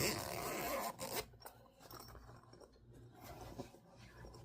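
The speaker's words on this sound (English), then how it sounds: "Just got a zipper." A zipper on a small bag is pulled in a long rasping run, then a few shorter zips and fabric rustles, close and fairly quiet.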